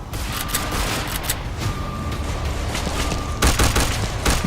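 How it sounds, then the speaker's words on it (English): Shotgun fire in an animated MMD action scene, a dense burst of loud blasts and booms layered over busy noise, with a fresh cluster of shots near the end. "that shotgun will do a lot more damage than that"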